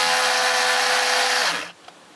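A bench grinder sharpening the cutters of a chainsaw chain gives a loud, steady whine with a bright grinding rasp for about a second and a half, then spins down and falls quiet, followed by a small click.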